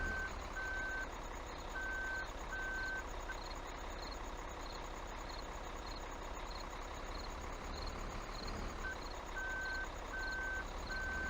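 Steady reversing beeps from a truck backing up to hook a trailer in Farming Simulator 2013, sounding over a constant, even engine drone with no talk.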